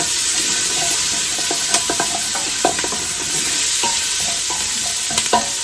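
Bacon and onion frying in a pan give a steady sizzle with scattered pops and crackles, plus occasional stirring clatter, with no talking.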